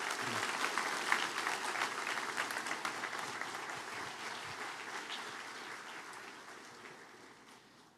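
A church congregation gives its team a round of applause: dense, lively clapping that starts strong and gradually fades toward the end, with no talk over it.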